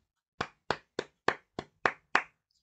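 Seven crisp, evenly spaced hand claps at a birthday party, close and fairly quiet, each sharp and separate with silence between.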